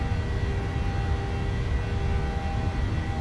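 Boeing 737-700 jet engines at takeoff power in Microsoft Flight Simulator, a steady loud broadband roar with a faint whine, continuous and unvarying with no speech.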